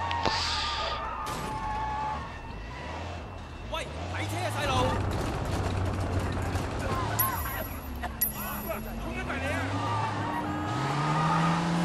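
Car engine in the video game Sleeping Dogs, revving and droning with tire squeal and skidding throughout, with a voice talking over the game sound.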